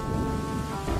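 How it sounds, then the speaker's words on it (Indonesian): Steady heavy rain with a deep rumble of thunder fills a brief moment, loud and dense, with no voices. "Gua dari tadi nunggu hujan, Dot."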